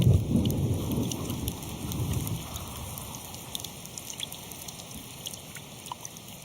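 Rain falls on pitcher plants in a steady patter of drops, with a deep rumble of thunder at the start that fades, leaving light, close splashes.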